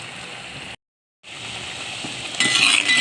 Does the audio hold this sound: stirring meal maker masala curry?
yes